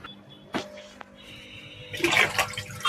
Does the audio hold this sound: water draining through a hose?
yes